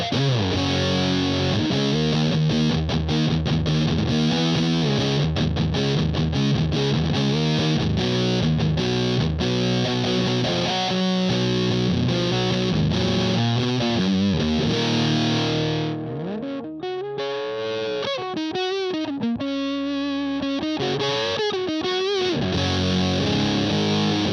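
A heavily distorted electric guitar through a Way Huge Russian Pickle fuzz pedal, sustain set about halfway, plays chugging riffs, then sustained crunchy notes ring out with long, fuzzy decay.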